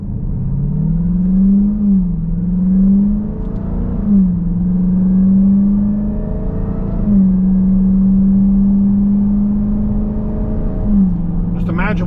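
A 2024 Dodge Durango SRT Hellcat pulls away from a stop under paddle shifts, its engine droning in steady rising pulls that break at short-shifted gear changes, loud and close throughout.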